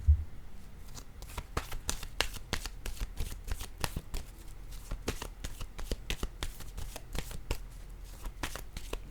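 Tarot cards are shuffled by hand in a quick, steady run of crisp riffling snaps and soft slaps, close and fairly quiet, with cards set down among them.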